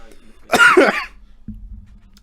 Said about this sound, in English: I don't cough like that.